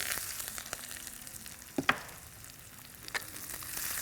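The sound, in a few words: onions sautéing in a pan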